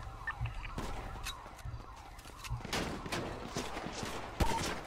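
Gunfire in GTA V NoPixel roleplay: scattered shots and short bursts crack out, some close and some farther off, irregular and overlapping, with a loud burst at the end.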